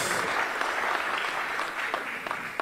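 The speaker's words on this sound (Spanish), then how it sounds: "Un fuerte aplauso para el ministro de Comunicaciones, el ingeniero José Edmundo Lemus." A crowd applauds the minister of communications at an official highway inspection event in Quetzaltenango, Guatemala: a continuous, broad wash of clapping from many people, steady throughout and somewhat distant.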